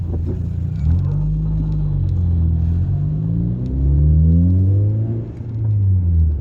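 Car engine rumbling steadily during a driving lesson, with a low drone that rises and falls in pitch through gear changes and acceleration, continuous and close, with no talk over it.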